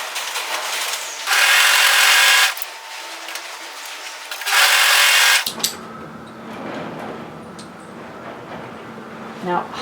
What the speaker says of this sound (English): Now we're going to sew together the back two and the front two.